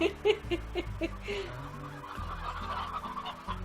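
A few short chicken clucks in the video game Slime Rancher, repeated in a quick pattern at the start, followed by a busy mix of low tones and a faint voice in the background.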